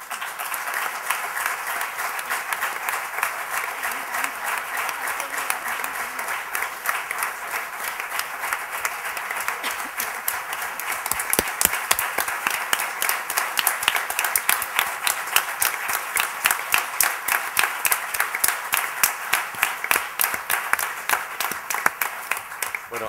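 A seated audience at a public talk by the Argentine collective A Casa applauds for over twenty seconds, a broad wash of clapping that swells partway through and turns into a brisk rhythmic beat, with no talk over it.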